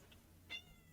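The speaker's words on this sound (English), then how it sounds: "If you guys hear meowing, I'm very sorry. My cat has decided to wake up" A pet cat lets out a single short, faint meow from close by against a quiet room.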